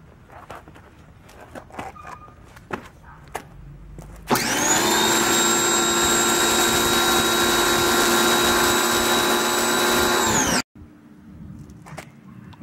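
A Ryobi 1600 psi electric pressure washer runs with no nozzle fitted, a loud steady whine with harmonic drone that starts abruptly, holds for about six seconds, then cuts off, with faint handling noises before and after.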